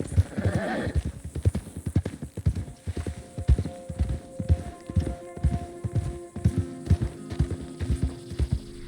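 Horse hooves clip-clopping at a brisk, even rhythm in the Red Dead Redemption 2 video game, close and continuous with a faint whinny near the start and no speech over it.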